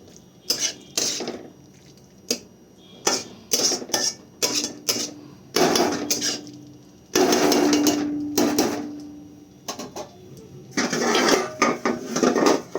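Broccoli cooking in a pan on a low flame gets its lid, heard as a close run of sharp metallic clanks and knocks of cookware, then a brief sizzle and a few more clatters.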